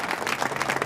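Audience clapping at a Leuva Patidar community mass wedding in Pragpar, a steady wash of applause from a crowd lasting the whole moment.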